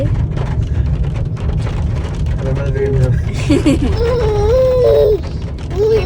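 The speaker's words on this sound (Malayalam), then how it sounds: "നല്ല മഴ വരുന്നുണ്ട്" Heavy rain pours down as a steady hiss throughout, with people talking over it and a few creaking, mechanical sounds mixed in.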